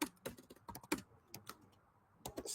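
Keys clacking on a computer keyboard while someone writes Solidity smart contract code, coming in quick irregular bursts of close, crisp taps with short pauses between them.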